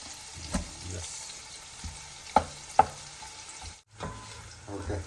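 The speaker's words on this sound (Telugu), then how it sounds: "సో ఉల్లిపాయలు అయితే ఇంకా వేగుతున్నాయి" Chopped onions frying in a pan while cooking tomato rice, a steady close sizzle broken by a few louder stirring scrapes and clinks, with no talking.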